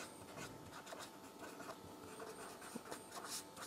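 A pen writing a chemistry formula by hand, faint, close scratching strokes in short irregular bursts over a quiet room hum.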